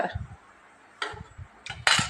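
Dishes clink and clatter in a few short bursts, with soft low knocks between them, moderately close.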